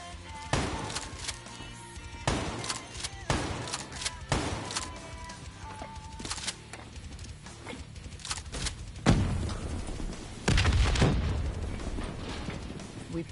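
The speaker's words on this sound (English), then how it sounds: "The explosion blocked our path." Video game explosions blocking a path: a series of heavy booms and blasts, sharp thumping bursts spaced irregularly with rumbling tails, loud and close, the biggest ones near the end.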